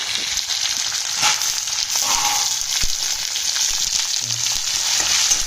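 Tomatoes sautéing in a pan for yam puli kuzhambu give a continuous, fairly loud sizzle and hiss throughout, with occasional faint scrapes and knocks of stirring.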